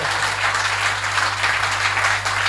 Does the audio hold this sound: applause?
yes